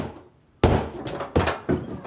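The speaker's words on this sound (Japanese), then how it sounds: "ドア 壊すつもりか？" Someone pounds forcefully on a door in three heavy, separated bursts of banging, loud and close after a moment of near silence.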